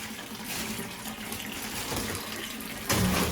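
Cold well water runs from a tap into a bathtub for an ice bath, a steady close splashing rush that swells louder near the end.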